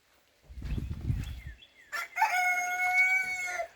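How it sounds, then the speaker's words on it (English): Rooster crowing in a backyard chicken coop, a long harmonic crow with a pitch break that follows low, husky clucking and scuffling from the hens, all close and fairly loud. "we got a chicken laying in there, it looks like"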